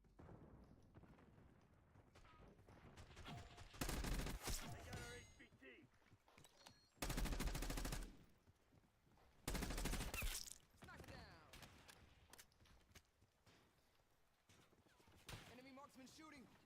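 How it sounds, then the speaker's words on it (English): Enemy marksman rifle fire in a video game, heard as three loud broadband bursts of shooting spaced a few seconds apart, with quieter in-game ambience and scattered sharp sounds between them. "Enemy marksman shooting."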